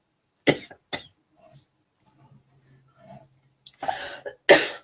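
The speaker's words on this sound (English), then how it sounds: "Excuse my coughing." A few sharp coughs close up: two quick ones at the start, a quiet pause with faint breathing, then a burst of harsher coughing at the end.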